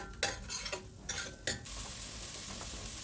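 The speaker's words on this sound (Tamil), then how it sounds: "நறுக்குன கார்லிக் கொஞ்சம் நல்லா சாட்டே பண்ணிவிட்டு 2 வெங்காயம் எடுத்துக்கோங்க, அதுவும் நல்லா வதக்கி விட்டுக்கலாம்" Chopped garlic and onions sauté in butter in a pot, giving a soft sizzle broken by several sharp scrapes and clinks of a spoon stirring against the metal, close and fairly quiet.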